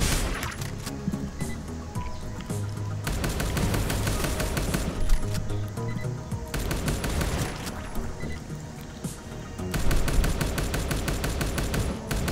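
Rapid bursts of automatic gunfire in the top-down shooter Neon Chrome, loud and dense, with sustained volleys broken by short pauses and clinking debris, set over a game soundtrack with no talking.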